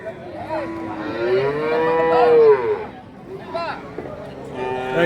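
A long, close cow moo rises and falls, followed by shorter calls, with murmuring people and bustle underneath at a cattle market in Kelamangalam, Tamil Nadu.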